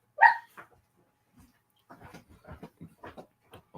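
A dog barks once, sharp and fairly close, inside a house that holds three dogs, then a few softer yips and muffled scuffling follow at lower volume.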